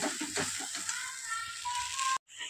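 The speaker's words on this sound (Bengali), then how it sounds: "সর্ষে পোস্ত দিয়েও আমি খুব ভালো করে কষিয়ে নিচ্ছি" Mustard-poppy paste frying in a pan over low heat gives a steady, close sizzling hiss with light stirring scrapes, then cuts off briefly near the end.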